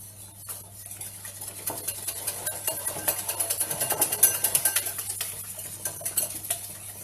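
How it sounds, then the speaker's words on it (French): A spoon stirs 30 g of sugar into a pastry-cream mixture in a bowl, making a quick, continuous run of scraping and light clinking against the bowl that swells in the middle, with no one talking. "Vous mélangez."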